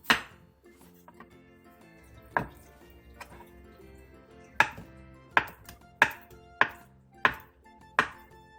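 A kitchen knife chops zucchini slices and a block of tofu on a cutting board. A few scattered knocks are followed by a steady run of crisp, evenly spaced chops, close and distinct.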